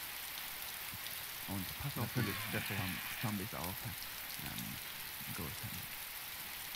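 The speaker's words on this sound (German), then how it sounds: "Seht ihr, wie es pisst? Es regnet" Steady rain hisses through a DayZ game scene as a constant wash of noise from start to finish, with someone talking over it for much of the clip.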